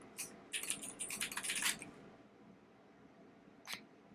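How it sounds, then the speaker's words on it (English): Clattering keystrokes on a noisy Zebronics computer keyboard come in a dense burst of quick taps, then stop, with one more isolated click near the end, close and moderately loud. "I'm using a pretty noisy keyboard here. This one is from Zebronics."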